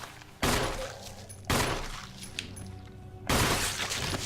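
Gunshots at zombies in the 2002 Resident Evil game: three loud, sharp reports spaced about a second apart, each followed by a ringing decay, with no voices.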